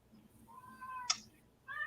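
Kittens meow at a window, a short rising cry followed by another starting, faint against a quiet background.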